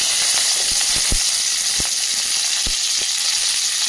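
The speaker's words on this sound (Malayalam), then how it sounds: "ചൂടായ എണ്ണയിലേക്ക് കടി ഇട്ട് കൊടുക്കും" Curry leaves and garlic sizzle steadily in hot oil while tempering for a spring onion stir-fry, a dense continuous crackle with a few sharper pops, close and alone with no talk.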